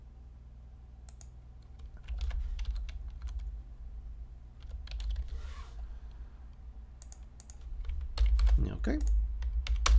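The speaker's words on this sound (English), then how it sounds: "I'm bad at typing." Scattered computer keyboard typing clicks come in short bursts and pauses over a low background hum, with a brief spoken word near the end.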